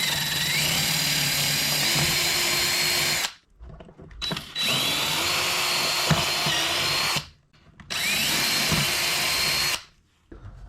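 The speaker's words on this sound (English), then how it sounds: "Pop the holes in the seat pan." Power drill boring holes through an ATV seat pan, three long loud whining bursts of several seconds each, separated by short pauses, with a brief blip in between.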